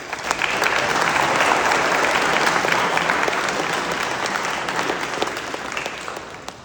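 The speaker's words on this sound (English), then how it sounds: "Let's give them a round of applause, please." A crowd in an atrium applauds the 1st Cavalry Division Band at a military anniversary ceremony, with sustained, even clapping that holds strong for several seconds and then tapers slightly.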